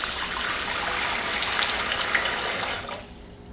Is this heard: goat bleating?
no